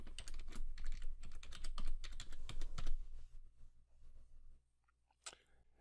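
Someone types a password on a computer keyboard in a rapid, close run of clattering keystrokes that slows to a few scattered taps and ends with one sharp final key press.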